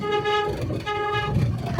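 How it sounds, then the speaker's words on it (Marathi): A faulty horn on a Mahindra Bolero Pickup blares with a steady, loud, wavering tone, cut by a brief dip before it carries on, with no one talking over it. "काय आपल्या गाडीचा हॉर्न बघा आता वाजतोय तो"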